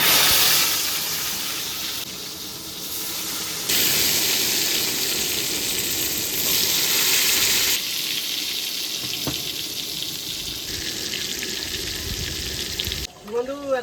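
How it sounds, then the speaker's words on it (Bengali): Eggplant frying in a generous amount of hot oil in an outdoor kitchen beside a pond: a loud, steady sizzle that shifts in intensity as pieces are added, with brief clatter near the end. "তাড়াতাড়ি করে বেগুনটা ভেজে নেব"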